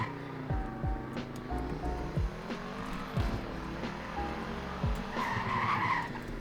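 Turbocharged race car in the Greenville Wisconsin video game, its engine revving through rising gear pulls with tire squeal and skidding, loud and close with no talk over it.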